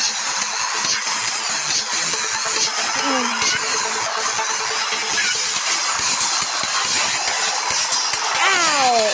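Racing video game car engine revving and whining steadily with tire squeals and gliding pitch sweeps, loud and continuous over a dense game soundtrack.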